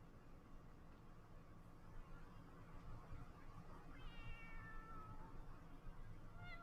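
A cat meows in the video game Final Fantasy XIV, soft and fairly distant, a few plaintive calls rising out of steady background noise and game ambience, with no talking.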